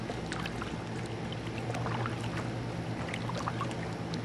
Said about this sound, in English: Probably hear my paddles in the water.